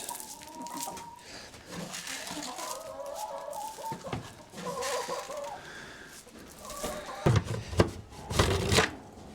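Several chickens cluck and murmur close by at a coop, with soft rustling and a few louder squawks toward the end.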